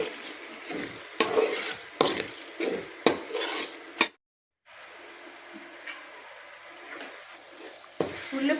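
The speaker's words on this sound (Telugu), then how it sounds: "ఒకసారి తిప్పుకుందాం." A spoon scrapes and stirs a salted onion and tomato base in a pan for paneer curry, repeated close scraping strokes over a soft sizzle, with a brief silent gap midway.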